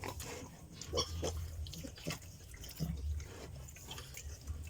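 Young piglets eating moistened feed, with soft wet smacking, slurping and occasional grunts and oinks in close, irregular bursts at a low overall level.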